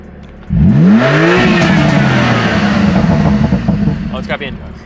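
A single-turbo BMW M3 CS engine revs sharply for a launch control start, rising whine climbing then holding a loud steady drone up close before easing off, with voices talking underneath.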